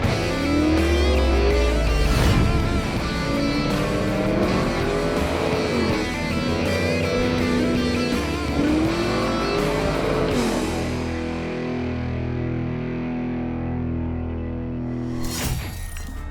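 A 7.0-litre Ruffian Mustang driven hard, its loud engine roaring and rising through repeated revs before easing to a steadier drone, with a sharp burst near the end.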